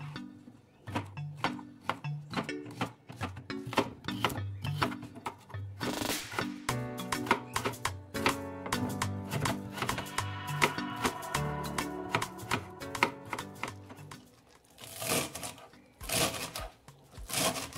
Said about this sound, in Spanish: Con la calabaza también hacemos lo mismo, picamos en cuadritos.